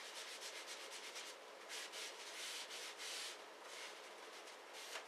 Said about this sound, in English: I just put the paint down and then scrub it in.